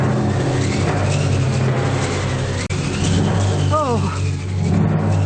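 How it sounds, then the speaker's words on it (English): Wind machine cranked as a stage storm effect in a BBC radio drama of The Dresser, giving a steady loud rushing roar with a low rumble beneath. A voice briefly exclaims midway. "wind machine."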